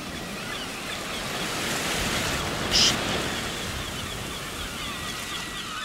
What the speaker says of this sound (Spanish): en exclusiva, el ruido del mar